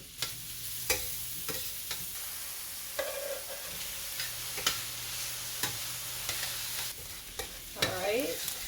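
Mushrooms and onions fry in butter in a pan. The sizzle is soft and steady, broken by occasional utensil taps and stirring clatter, and no one speaks.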